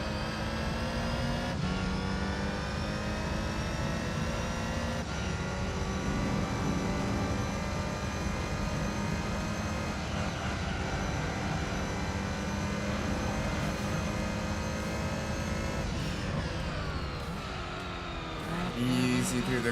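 A big car engine in Gran Turismo 3 drones loudly and steadily, a sustained high-revving tone with shifting pitch that eases off near the end, while a voice talks over it.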